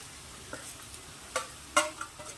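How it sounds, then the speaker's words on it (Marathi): Red chili chutney frying slowly in hot oil over a low flame for Vidarbha-style ghugri, a soft steady sizzle broken by a few sharp spatula scrapes and clicks against the pan. "तेल तापलं आता आपण यामध्ये स्लो स्लो आचेवर याला छान फ्राय करून घ्यायचं आहे"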